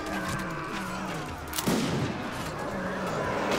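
Gunfire in the Warsword Conquest video game, a busy battle din of scattered shots with one sharp, louder crack near the middle, under a continuous background rumble.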